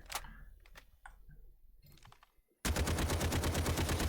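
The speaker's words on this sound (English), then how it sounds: "Let's try it again in full auto here." Full-auto rifle fire on a firing range in the game Delta Force, starting abruptly as a loud, fast, steady stream of rounds after soft clicks and clatter, with no talk.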